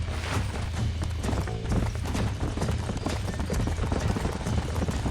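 Horse hooves clip-clopping in the video game Red Dead Redemption, a dense, continuous trot of several animals, close and loud, with a low rumbling bed beneath and no clear speech.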